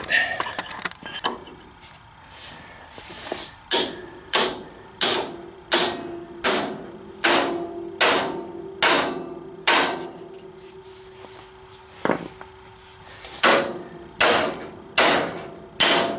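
Repeated metal hammer blows on a front suspension joint to pop it free, a steady series of loud, sharp strikes about every half second with brief pauses between runs and a faint ringing tone.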